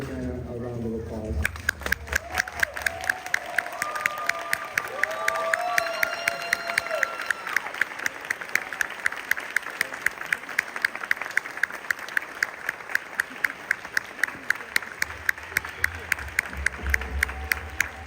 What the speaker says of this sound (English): I ask the audience to please stand and join me in giving Anna a round of applause